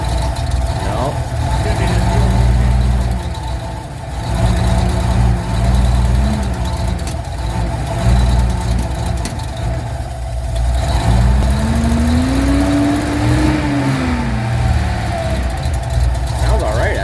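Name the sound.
1981 Datsun 280ZX engine running after 9 years parked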